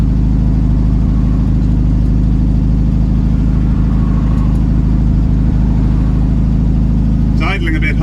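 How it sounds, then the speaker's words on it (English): A ratty 1967 VW Beetle engine idles continuously, steady and rumbling at a fairly high, even pitch, with a brief clatter near the end. "It's idling a bit high anyway."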